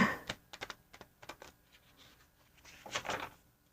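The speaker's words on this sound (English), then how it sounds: "So I'm trying to find a more delicate way to shuffle, which is difficult for me." A deck of gold-edged tarot cards shuffled gently by hand, producing quick clusters of light clicking taps and riffles up close, with a denser burst toward the end.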